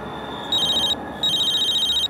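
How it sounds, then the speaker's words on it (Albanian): A telephone rings in two electronic trilling bursts with a short gap between them, loud and close, with no talk over it. "Po, telefoni."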